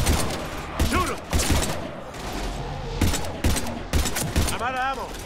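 Mass Effect 3 combat gunfire comes in loud, sharp bursts spaced through the clip, interleaved with voices talking and shouting between and over the shots.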